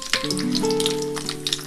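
Bay leaves and whole garam masala, cinnamon and nutmeg among them, frying in hot oil for dhaba-style chicken curry: a close, steady crackling sizzle with a brief sustained tonal ring over it.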